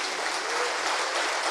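A church congregation applauds steadily during a worship service, with dense, even clapping filling the room for the whole moment and no voice rising above it.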